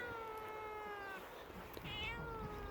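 A trapped cat meows repeatedly in drawn-out, strained cries, fairly close, with faint background rustling and no talking.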